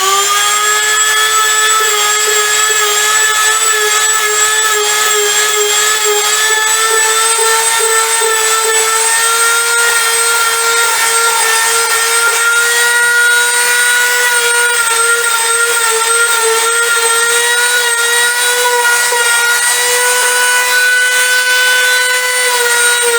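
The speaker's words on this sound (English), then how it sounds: "that's kind of how you Dremel." Dremel rotary tool grinding a cosplay boar head, a steady high-pitched whine held continuously for the whole stretch, close and loud with a slight wavering pitch.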